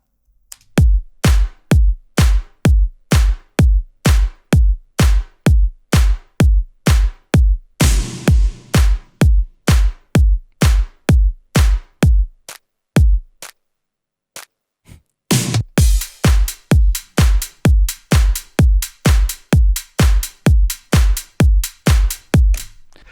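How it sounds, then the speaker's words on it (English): A simple electronic drum loop from a future bass remake of a song made in Ableton Live: steady punchy kick and snare hits, a brief washy noise sweep midway, a short gap, then the beat resumes, loud and with no talk. "Drums sound like this."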